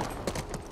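Quick run of horse hooves clip-clopping across ground in the video game The Last of Us, several rapid thuds in under a second.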